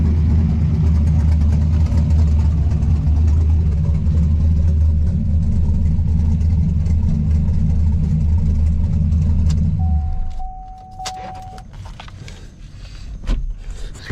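Car fitted with a new McLeod RXT clutch, RAM slave cylinder and BMR diff bushings, droning loudly with a steady engine rumble while driving, then dropping abruptly to a quiet idle with a few clicks and knocks afterward.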